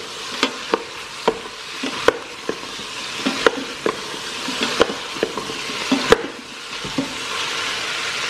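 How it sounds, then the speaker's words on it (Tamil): Vegetables sauté in an Instant Pot as a spoon stirs them, sharp regular clicks and scrapes against the pot's metal insert over a steady close sizzle, with no talking. "இப்போ வந்து காய் போட்டுட்டு ஒரு 4-5 மினிட்ஸ் நம்ம வந்து நல்லா வதக்கி விடலாம்."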